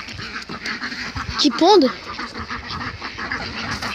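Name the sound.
ducks quacking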